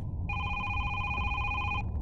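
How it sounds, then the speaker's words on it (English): A phone ringtone heard through the walls of a house rings in one steady electronic burst of about a second and a half, muffled and moderately loud over a low background rumble. "I can't believe the ringtone actually goes through the walls, man."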